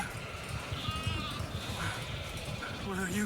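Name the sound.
sheep bleating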